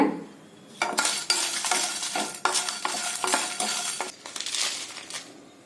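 Black pepper, cumin and six dried red chillies dry roasting in a pan for pirandai podi, stirred with a spoon; dense scraping and rattling strokes, close and fairly loud, after a quieter start, with no voices.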